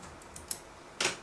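Keys on an Apple Bluetooth keyboard tapped while entering an iPhone password, a few light separate clicks followed by one sharper, louder keystroke, close and quiet.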